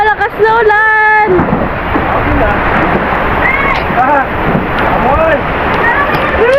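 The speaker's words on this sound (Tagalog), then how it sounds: "Bumuhos na ang malakas na ulan." Heavy rain pours down in a dense, steady hiss that fills the background, while voices talk over it throughout.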